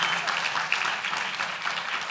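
A crowd at a city council meeting claps steadily for a couple of seconds, a dense patter of applause without any cheering standing out.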